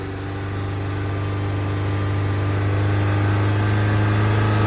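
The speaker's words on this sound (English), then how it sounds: "Let's increase the engine RPMs again." Saturn Sky engine with an intermittent overheating fault being revved up, its steady hum rising slowly and growing louder as the RPM climbs, no talking.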